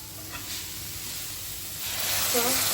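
Grated carrots for gajar halwa simmering in milk in a pan, giving a steady close sizzle and hiss that grows louder toward the end, with a voice speaking briefly.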